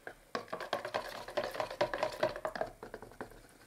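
Water-based gloss paint is stirred in a tin, producing a quick run of rhythmic, close scraping and knocking strokes with no talking.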